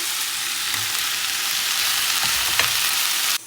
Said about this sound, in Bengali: পেস্টটা একটু ভালো করে ভেজে নিই